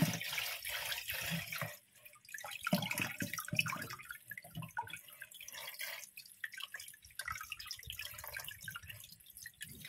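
Water dripping and trickling from rinsed beef ribs draining in a container, a close, quiet run of irregular splashes and patters with short pauses, no talking.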